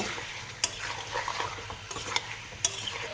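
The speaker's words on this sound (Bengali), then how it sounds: "আমরা ভালোভাবে সব যদি মিক্স হয় চিকেনে এরকম করে মিক্স করে নিব" Chicken being stirred and mixed with spices in a hot pan, a steady soft sizzle with scraping strokes and a few sharp clinks of the utensil against the pan, close and without talk.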